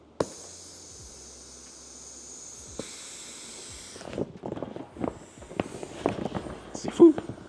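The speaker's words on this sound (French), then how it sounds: "je tire un petit peu sur le zip, tu vas l'entendre" Air hissing out through the partly opened zipper of a SealLine Pro Duffel dry bag, a steady faint hiss in the first seconds, then rustling and crinkling of the bag's fabric with scattered taps.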